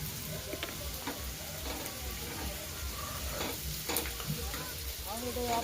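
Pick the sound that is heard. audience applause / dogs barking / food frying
food frying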